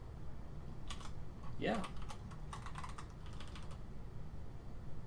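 Keyboard keys tapped in quick, irregular bursts during a choose-your-own-adventure style indie game, fairly faint and close, with a brief spoken word partway through.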